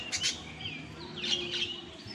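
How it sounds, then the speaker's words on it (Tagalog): Lovebirds in an aviary cage chirp and tweet in quick bright bursts, fairly close, over a low steady background hum. "Ayan, may cage ng mga lovebirds."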